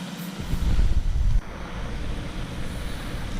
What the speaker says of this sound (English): just enough water to cover all the vegetables